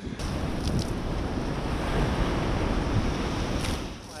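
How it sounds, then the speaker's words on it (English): Ocean breakers crash and splash over a seawall in high winds, giving a loud, continuous roar of surf and wind buffeting the microphone, with a few brighter splashes and no talk. "it's very dicey to get in and out of this area without getting splashed with all the breakers"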